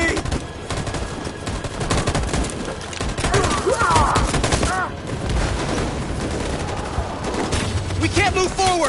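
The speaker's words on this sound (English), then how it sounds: "That machine gun is taking down everything that moves!" Sustained machine gun fire rattles continuously and loudly throughout, a dense battle din with overlapping bursts and distant booms.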